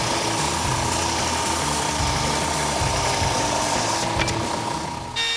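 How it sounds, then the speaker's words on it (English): An oscillating belt sander grinds continuously as it rounds over the corners of a wooden stair tread gauge, a loud, even mechanical drone with a rattling texture that holds steady throughout. "I used my oscillating belt sander to round over all the corners and soften all the edges"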